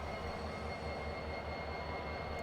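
Union Pacific 1988 locomotive slowing to a stop on rough track, a steady low rumble with a constant drone throughout, close and continuous, with no voices.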